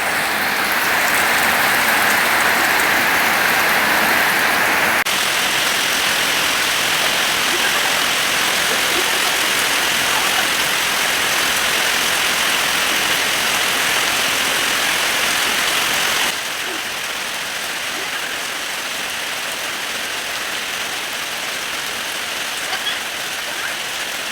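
Steady, loud rainfall pours down continuously, a dense broadband hiss that drops slightly in intensity toward the end.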